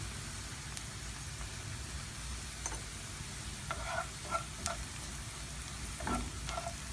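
Onion and carrot fry gently in a pan, a soft steady sizzle with a few light stirring taps and clicks, quiet and close, no voices.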